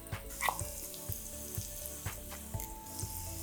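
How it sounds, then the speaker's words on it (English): Thai green curry paste made from raw aromatics sizzles quietly in about a tablespoon of hot oil in a pan, a soft steady frying hiss broken by small regular ticks. "Heat a tablespoon of oil in a pan, and now goes in the aromatic paste."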